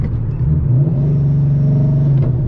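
Paxton-supercharged Ford Mustang GT making a partial-throttle pull, a loud, steady low engine drone that builds and holds close to the microphone for a couple of seconds, with no voices.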